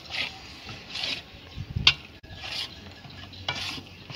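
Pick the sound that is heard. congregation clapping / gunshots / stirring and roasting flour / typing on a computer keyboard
stirring and roasting flour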